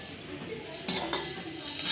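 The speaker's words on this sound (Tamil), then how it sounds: "இப்படி கிண்டிக்கலாம்" A spoon clinks and scrapes softly inside a cup or pot in a few short strokes, stirring sugar into lemon juice, over a low background hiss.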